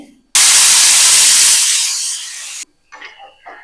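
A pressure cooker cooking mushrooms whistles: a loud, sharp hiss of steam bursts out for about two seconds and then cuts off, followed by faint talking.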